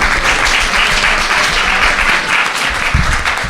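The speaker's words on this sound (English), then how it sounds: "Round of applause." An audience at a MAGFest panel applauds continuously, a dense wash of many hands clapping at once, fairly loud and steady for the whole stretch.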